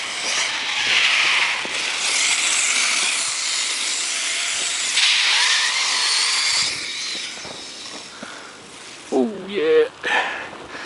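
A Savage snow bike conversion engine revs hard at near full throttle, a loud sustained roar with broadband hiss that surges and holds, ending in a few sharper rising whines.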